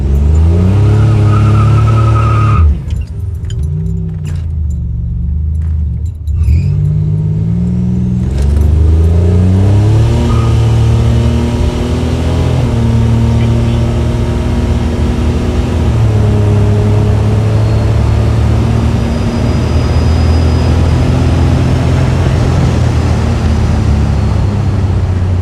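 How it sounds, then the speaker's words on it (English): A 1985 Buick Grand National on drag tires does a burnout, its engine roaring and revving steadily close by, with tire noise and brief dips in the engine note before a long, sustained roar. "Do a quick burnout."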